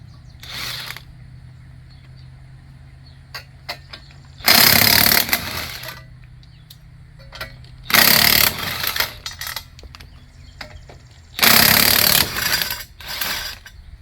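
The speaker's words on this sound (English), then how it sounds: "I love impacts, but be careful with impacts though." An impact wrench hammers in three loud, rattling bursts of about a second each during a front brake and wheel bearing job, with quieter workshop clatter and a low hum between them.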